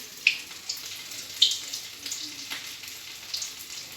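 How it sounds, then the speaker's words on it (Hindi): Cutlet balls frying in hot oil, a steady soft sizzle with a few sharp pops and crackles, close but fairly quiet, no talk. "इसी तरह से मैं सारे बॉल्स फ्राई कर लेती हूँ"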